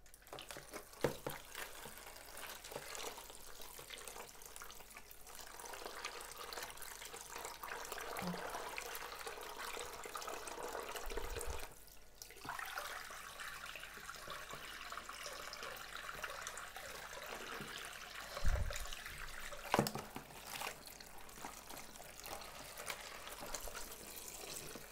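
Tap water running steadily into a sink to rinse solar-dyed fabric, a continuous quiet splashing flow with occasional sloshes and handling bumps, no talking.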